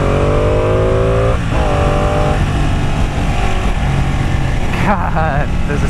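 A Ducati Panigale 899 sport motorcycle is ridden hard, its engine roaring loudly and steadily with rising revs, a brief dip as gears shift up, then another quick shift near the end under wind noise.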